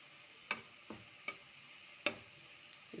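A spoon stirs an amla and turmeric mixture cooking in a pan, giving a few soft, separate scrapes and taps over a faint, steady sizzle, close and quiet.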